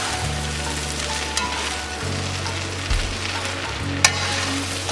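Vegetable fried rice frying in a pan after tamari is poured in, a steady loud sizzle with a few scraping stirs and a single sharp clink near the end.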